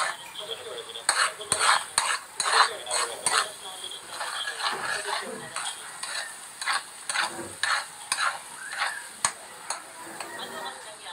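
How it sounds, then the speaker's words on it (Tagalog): Onion added to garlic frying in a pan, sizzling steadily while a utensil scrapes and clinks against the cookware in an irregular stirring rhythm, close and fairly loud, with no talk. "medyo luto na yung bawang, saka natin ilalagay ang sibuyas."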